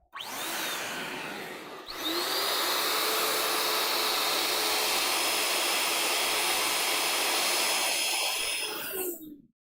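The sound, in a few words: electric balloon inflator pump running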